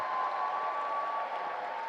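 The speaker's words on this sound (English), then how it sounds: "So let's give her another round of applause for her effort on AsiaPL International Law Peace" Applause from an audience at a peace conference in Europe, a steady, dense wash of clapping that fills the whole stretch at an even level, with no voices standing out.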